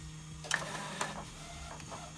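DTF printer printing a T-shirt transfer, a faint mechanical hum with a few soft clicks and shuttling noises from the print head, nearby but quiet, with no speech.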